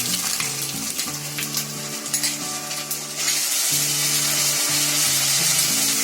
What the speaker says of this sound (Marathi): आता त्याच्यामध्ये आलं लसूणची पेस्ट टाकते